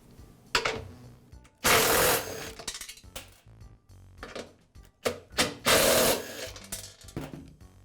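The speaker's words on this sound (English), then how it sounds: "I'll begin by removing the old discharge chute from the lawn mower." Intermittent mechanical scraping and clanking bursts as tools remove the discharge chute from a Yard Machines lawn mower, two loud broadband rasps of metal parts being worked loose, with quieter taps and rattles between, close by.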